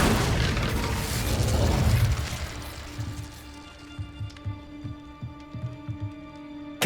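Incendio fire spell cast in the Hogwarts Legacy video game: a loud, roaring fiery burst for about two seconds that fades into a sustained musical tone with soft thuds, no voices.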